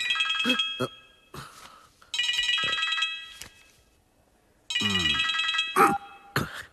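A phone rings with an incoming call in a Malayalam film scene, repeated electronic ringtone bursts with short gaps between them, loud and close, while brief voices and other sounds break in.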